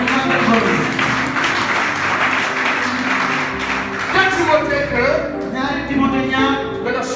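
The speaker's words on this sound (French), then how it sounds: "Acclamez le Seigneur." A church congregation at a French-language sermon claps and cheers in praise, loud dense applause and shouting voices filling the room throughout.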